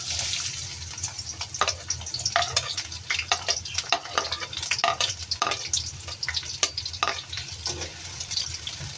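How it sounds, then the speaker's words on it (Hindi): Onions sizzle and crackle in hot oil for a commercial-style black chana pulao, a dense steady frying hiss with scattered sharp pops and stirring scrapes, close and loud throughout with no talk. "ऑयल हमारा हो गया गरम। अब इसमें डालते हैं हम प्याज।"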